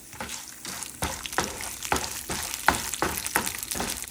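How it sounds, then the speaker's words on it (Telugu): Urad dal and chana dal fry in a pan for a radish pickle tempering, a steady close sizzle broken by regular stirring scrapes and small crackles, with no voices. "మినపప్పు అలాగే పచ్చి శనగపప్పు అంటారు కదా అది ఈ మూడు వేసుకొని ఫ్రై చేసుకోవాలి"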